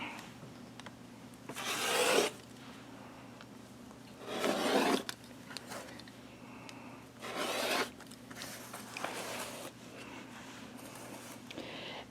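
Scissors or a rotary cutter cut quilt fabric along its edges in short rasping strokes, several separate passes close up and fairly quiet.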